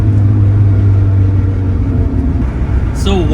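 Steady low engine drone and road rumble inside a Honda Civic while driving, loud and close throughout with a slight dip near the end, and a faint voice-like sound at the very end.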